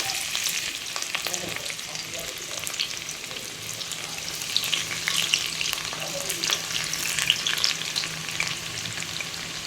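Onions cut into long slices fry in hot oil and ghee for goat curry, making a dense, continuous crackling sizzle close by with faint occasional stirring and no voices.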